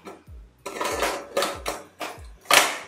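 A metal pressure cooker lid is set down and clanked shut over a pot of prawn biryani, five or so close, sharp metallic knocks with ringing pans spaced about half a second apart, no talking.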